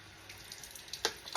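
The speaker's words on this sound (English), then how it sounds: "We're just going to fill it with some water." Tap water running into the small tank of a water flosser in a bathroom, a soft steady trickle and splash that is faint and close, with a brief louder gush near the end.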